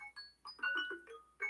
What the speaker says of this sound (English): so that's my alarm